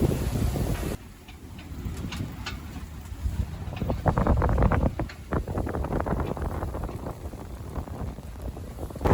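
Wind of about 17 knots over a sailboat under sail at sea, a steady loud rush and buffeting against the microphone with water wash beneath, continuous throughout.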